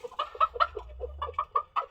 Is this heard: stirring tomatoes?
no